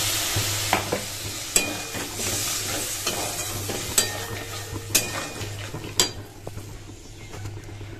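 Poppy seed paste frying in a pan, with water added: a steady sizzle runs throughout while a utensil stirs and scrapes, giving sharp intermittent clinks against the pan.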